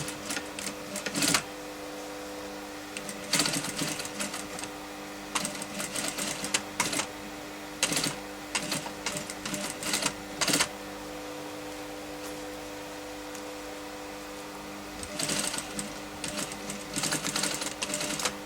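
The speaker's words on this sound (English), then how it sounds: "You can put your zip foot back on and stitch right up to this edge and do it." Sewing machine stitching along the edge of ladies' trousers with a zipper foot, loud close running bursts that start and stop several times, with short pauses between runs.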